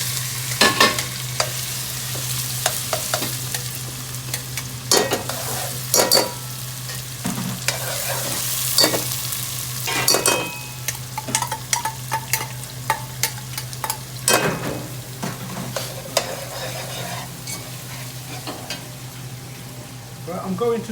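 About three chopped onions fry in a pan for a restaurant-style meat and chana dal dish, a steady loud sizzle broken by frequent sharp scrapes and stirring knocks, close up throughout.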